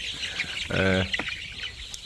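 A chicken lets out a short burst of clucking, close and fairly loud, with some faint bird sounds in the background.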